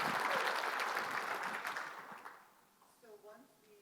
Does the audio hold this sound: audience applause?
yes